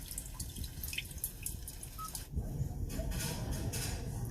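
Rain from a nature-sounds feature in a 2021 Hyundai Palisade Limited plays as soft, faint dripping and trickling water. It is quiet at first, then grows into a steadier patter partway through.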